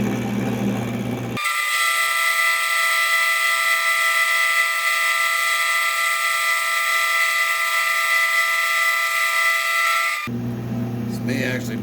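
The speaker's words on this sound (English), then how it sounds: "I'm just gonna stick with conventional milling" An end mill on a milling machine cuts a block in conventional milling, giving a loud, steady high-pitched whine with strong sustained tones for about nine seconds, with lower machine hum before and after.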